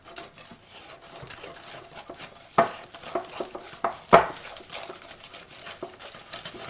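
Granulated sugar is beaten into Scotch pancake batter in a bowl, with soft rubbing and scraping strokes and a couple of sharper knocks against the bowl, close and fairly quiet.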